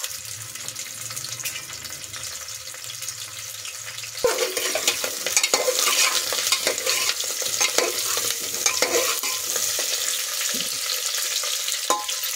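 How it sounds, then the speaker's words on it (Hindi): Pieces of jackfruit shallow-frying in hot oil inside a pressure cooker, a steady sizzle that grows louder midway as they are stirred, with scraping clinks and no talk. "अब ये मैं कटहल डाल के थोड़ा सा सेलो फ्राई करूंगी, कुकर के अंदर ही करूंगी"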